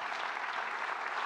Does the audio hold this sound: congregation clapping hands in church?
yes